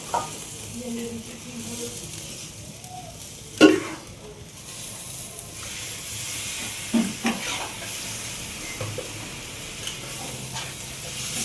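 Spiced curry with Kashmiri chilli powder and a pinch of sugar sautéed in a wok for a puja offering, a low steady sizzle under occasional scraping stirs and clanks of the spatula.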